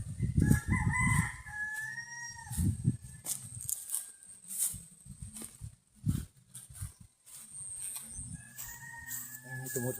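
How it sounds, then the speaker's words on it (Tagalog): Roosters crow repeatedly amid clucking chickens outdoors, several long calls near and far, with bursts of low rumbling and scattered background noise between them. "Mga manok."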